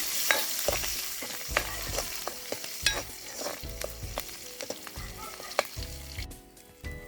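Small onions fry in a hot pan, with a continuous sizzle broken by regular scraping strokes of a spoon stirring them, close and steady throughout.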